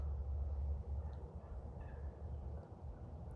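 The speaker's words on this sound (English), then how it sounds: "these turkeys are very territorial." Turkeys gobble outdoors in late-season woods, a few calls rising over steady loud low rumble from strong gusting wind of about 45 miles per hour.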